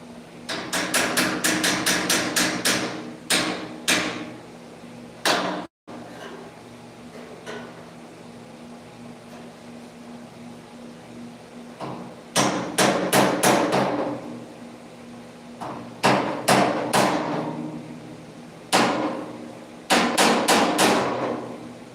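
Sheet metal for a car hood being hammered during fabrication: rapid bursts of close, loud, ringing metallic blows, with quiet pauses between groups of strikes.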